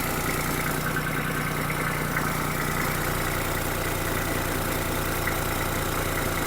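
Kubota GB-20 mini tractor with a D1105 diesel engine of about 1100 cc idling steadily, a continuous even drone heard alone at moderate level.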